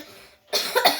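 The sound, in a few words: voice imitating a German-style cough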